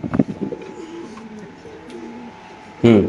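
Caged pigeons at a pigeon market coo in low, soft bursts, with a louder cluster at the start and another near the end, over a steady murmur of background noise.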